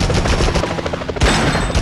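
Rapid automatic gunfire in the 2001 Spider-Man video game, a loud continuous stream of shots lasting under two seconds, with a brief break before a final burst; no talking.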